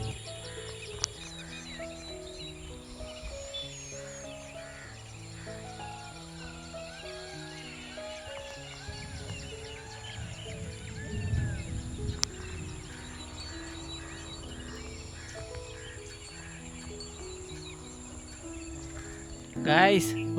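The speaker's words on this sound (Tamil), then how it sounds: "மயில், குயில், கிளி இந்த மாதிரி எல்லாம் ஏகப்பட்ட பறவைகள் வந்து கத்திக்கிட்டு இருக்குங்க" Birds including peacock, cuckoo and parrot call on the Pachamalai hills, heard as faint, scattered chirps and calls over a steady hum of insects, with a louder rustle near the end.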